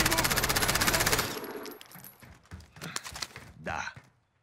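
A rapid burst of automatic gunfire in Modern Warfare Warzone hammers for about a second, then breaks into scattered fainter shots and clatter, with a quick voice cutting in near the end.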